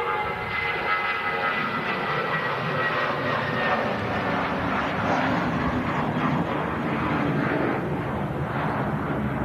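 Aircraft at Manchester Airport, including an Emirates A380 landing and a Lufthansa departure, giving a loud continuous roar of jet engines, steady and fairly near.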